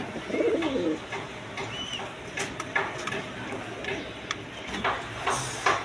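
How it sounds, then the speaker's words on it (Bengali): A pair of red Rasgolla pigeons, male and female, coo in repeated soft, rolling calls close by, with scattered clicks and faint background noise around them. "রাসগোল্লা কবুতর, কোয়ালিটি সম্পন্ন কবুতর, রেড কালারের মধ্যে"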